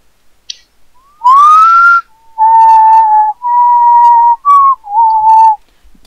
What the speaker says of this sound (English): You do realize how loud your whistling is, don't you?